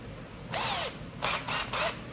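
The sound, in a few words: cordless drill spinning joystick handle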